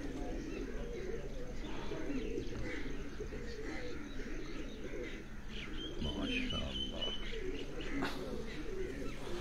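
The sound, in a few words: golden pigeon cooing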